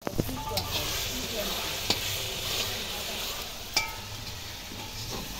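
Food sizzles steadily after being poured into a hot pan at an outdoor family picnic, a continuous hiss with occasional clinks of a utensil against the pan.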